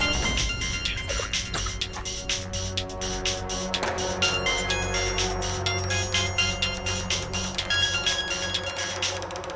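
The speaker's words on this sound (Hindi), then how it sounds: "किसी का फोन आ रहा है बार बार।" A ringtone melody repeats over and over at a steady level, with dense musical tones and no voices.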